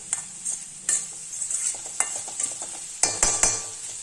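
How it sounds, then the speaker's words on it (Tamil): Carrot and beans poriyal with coconut stirred in a hot pan, a spoon scraping and tapping in uneven strokes over a soft sizzle, close and clear with no talking. "நல்லா தேங்காய் வந்து ஒன்றா சேர்ந்து வர்ற வரைக்கும் நல்லா வந்து கிளறி விட்டுறலாம்."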